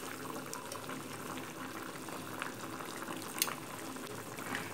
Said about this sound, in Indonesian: Kemudian kita nyalakan api kompor dan kita ungkep terlebih dahulu.